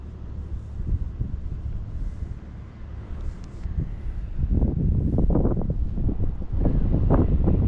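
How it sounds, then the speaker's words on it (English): Swirling wind outdoors buffets the microphone in low, rumbling gusts that swell and grow stronger and more turbulent in the second half, with no voices over it. "I guess we're getting swirls of wind out here"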